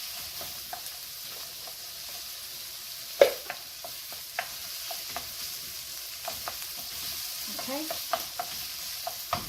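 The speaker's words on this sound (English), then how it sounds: "I'm going to add just a little bit of the white onion in it." Diced white onion sizzles quietly with pancetta in a pan for an Italian-style chicken Alfredo, a soft steady hiss broken by occasional clinks of stirring and a brief spoken word.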